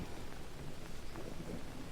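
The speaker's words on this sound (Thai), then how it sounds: "ฝนตกใช่ไหมว่าแล้ว" Rain falls in the jungle survival video game Green Hell, a steady dense hiss of downpour with a faint low rumble underneath, continuous and fairly quiet throughout.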